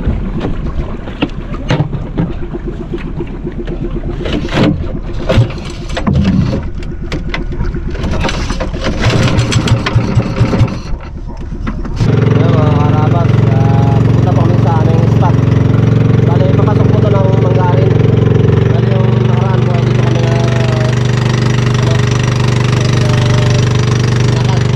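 A troubled engine on a small boat out catching shrimp runs first under gusting wind and clattering knocks, then settles into a loud, steady droning hum that continues to the end, with voices mixed in.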